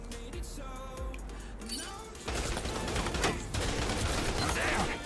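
Gunfire in the shooter game Rogue Company: dense bursts of rapid shots and thuds that grow louder and busier midway, with a player's voice briefly heard over the firefight.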